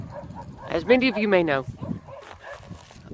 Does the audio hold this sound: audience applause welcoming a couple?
no